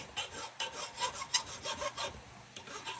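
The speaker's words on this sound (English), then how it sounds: "Hand sanding, grinding," Hand sanding of wooden knife handle material, quiet rhythmic rasping strokes repeating about every quarter second, close up with no talking.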